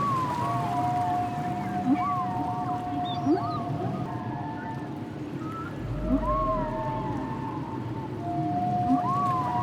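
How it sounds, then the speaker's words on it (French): Whale song fills a quiet, storytelling-style scene: long sliding moans and upswept calls repeat in slow phrases over a soft underwater-like wash, moderately loud and with no voices over them. "écouter le chant des baleines pour trouver la bonne direction"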